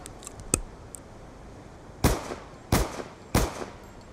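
Gunfire from an FMJ-equipped weapon in the video game Black Ops 2, with a sharp early shot and then three loud, evenly spaced reports at close range, each followed by a short decaying tail.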